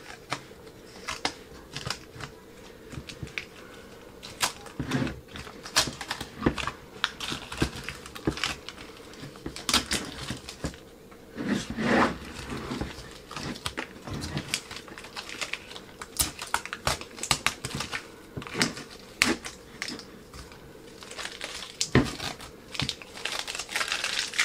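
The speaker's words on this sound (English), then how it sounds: "I'm going to peel my stencil off that way." A paint stencil peels away from wood in a run of small crackling, tearing ticks and crinkles, close and quiet, with short pauses between pulls and no speech.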